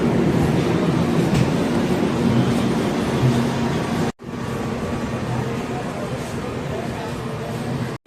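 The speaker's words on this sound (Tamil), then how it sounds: "நம்ம வந்த ட்ரெயின் டிபார்ட் ஆகிடுச்சிங்க ஈரோட்டிலேருந்து." A train departing Erode rumbles steadily along the rails with a continuous low mechanical roar and faint rattling, a brief break midway, no voices.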